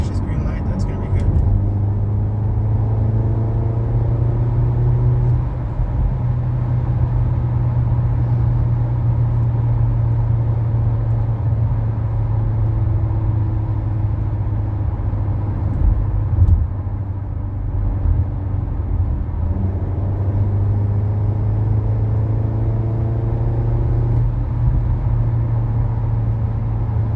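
A 2025 Hyundai Elantra N with no modifications drives on a road, its engine giving a steady, loud low drone and tire rumble that stays constant throughout, with a person talking over it.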